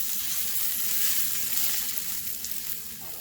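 Brinjal pieces fry steadily in a pan with turmeric powder, a continuous close hiss of oil sizzling as the mixture is stirred, fading slightly toward the end.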